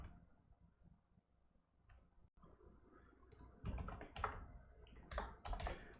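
Computer keyboard typed on while writing Java code in an IDE, quiet scattered keystrokes at first, then a denser burst of closer, brisker clicking in the second half, with no voice over it.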